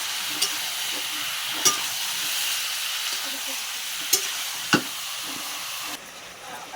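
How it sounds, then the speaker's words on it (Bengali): Chicken meat fries with browned onions in a pan, a soft steady sizzle broken by a few sharp utensil clicks and taps. "মাংস আজকে ভেজে ভেজে রান্না করব"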